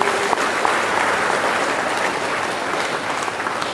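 Audience applause at the 40th anniversary celebration of the Seberang Perai Municipal Council in Penang, honouring the council departments. Dense, steady clapping from a large crowd fills the whole stretch at an even level.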